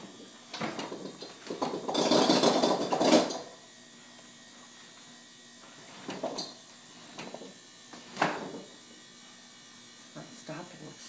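Loud rattling hum from an LG refrigerator about 1.5 years old, a dense buzzing burst near the start followed by several shorter rattles and clunks as the unit is shifted.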